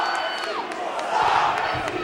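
A split arena crowd at a 2002 tag-team wrestling match cheers, whoops and yells continuously, a loud dense roar with scattered shouts rising over it.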